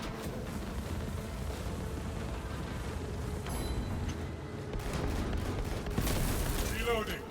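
A pyrecannon flamer fires in the Space Marine video game, a steady roaring wash of combat noise with gunfire-like bursts that builds louder toward the end, while a voice talks over it.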